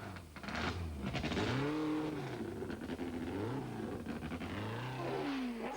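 Lola T298 BMW prototype race car at a hill climb, its engine revving loudly and rising through gears with sweeping pitch changes, close and continuous, no voices.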